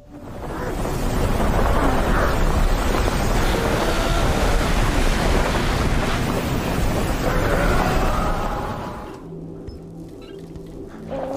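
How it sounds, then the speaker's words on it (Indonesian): A big storm roars with strong wind buffeting and crashing waves, loud and continuous for most of the stretch before easing into a quieter rumble near the end. "Namun tiba-tiba badai besar datang"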